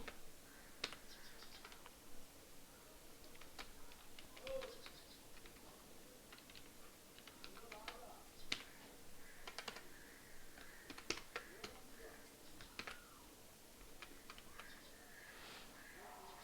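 Steady typing on a computer keyboard, with irregular quiet clicks and bursts of keystrokes running for the whole stretch at a low, close-up level, with no voices.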